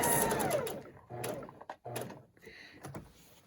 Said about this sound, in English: I'm going to put a few stay stitches in and just sew around until I'm a 1/2 inch before the end of this box